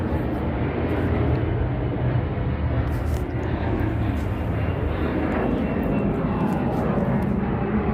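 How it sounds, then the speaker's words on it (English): An airplane flying overhead in the early morning produces a steady, loud, broadband engine roar that holds throughout the several seconds with no pause or letup. "This is the third plane."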